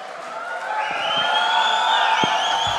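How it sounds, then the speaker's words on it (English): An audience at an anniversary celebration for a biscuit brand cheers and whoops, a dense sustained crowd roar building slightly and staying loud, with scattered claps. "a big round of applause for Saurav now."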